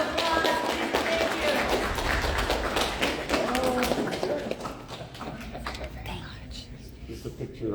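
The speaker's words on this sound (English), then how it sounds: "One more round of applause." Audience applause at an astronaut encounter event at Kennedy Space Center, a dense steady clapping from a crowd that stays loud for several seconds, then thins and softens toward the end.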